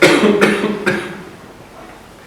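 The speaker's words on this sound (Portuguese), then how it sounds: "vou dar algumas tossidas aqui" A man coughs several times in quick succession, close and loud, with sharp bursts followed by a fading breathy tail and quiet room tone.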